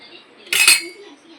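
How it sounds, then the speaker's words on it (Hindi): Dishware being handled as a fairly deep plate, a glass and a spoon are gathered, giving one brief bright clink cluster, close and moderately loud, over faint room noise with a soft voice murmuring. "साथ में ये 3 बर्तन है, एक थोड़ी सी गहरी सी प्लेट है ताकि पकड़ने में आसानी होगी, ये ग्लास और एक स्पून।"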